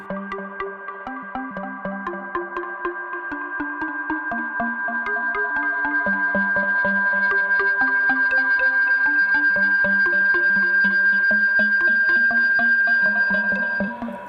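A steady modular synthesizer sine tone holds as a bright sustained pitch while plucky percussive synth notes pulse rhythmically beneath it, growing fuller midway.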